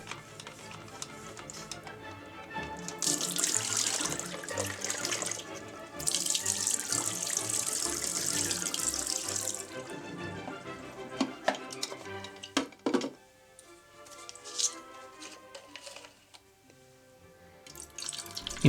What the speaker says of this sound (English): Now wash the film from leftovers of developer with running water